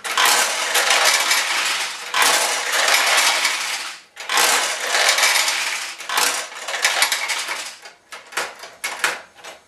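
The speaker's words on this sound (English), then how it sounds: "I got all the balls out of the back of the machine" Dense metallic rattling of many pachinko balls pouring out of the back of a Nishijin pachinko machine, a loud continuous cascade in long bursts with brief pauses, then thinning into scattered clinks near the end.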